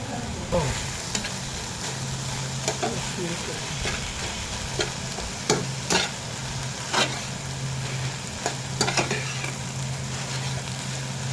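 Jute leaves stir-fried in a pan with coconut, a steady sizzle running throughout with occasional sharp scrapes and clinks of a spatula against the pan.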